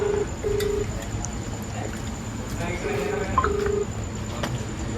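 A phone is dialled to call a friend on his birthday: a short series of evenly spaced keypad tones, clear and steady over a low background hum.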